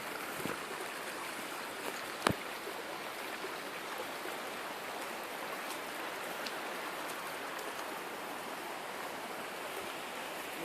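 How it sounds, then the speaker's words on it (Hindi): Steady, soft rushing of flowing mountain spring water fills the scene, with a single faint tap partway through and no voices. "चश्मे के पानी की आवाज़ आपको सुनाई दे रही है।"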